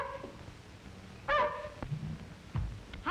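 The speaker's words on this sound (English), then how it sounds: "Better get that pup out of here, Sonny." A puppy in an old jungle film gives a few short, faint yips and barks spaced across a few seconds, thin and high over quiet background hiss, with no talking.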